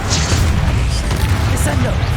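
Bombarda spell explosion in the Hogwarts Legacy video game, a loud, heavy blast with rumbling low-end debris and crackling, close and dense, with a voice cast over it.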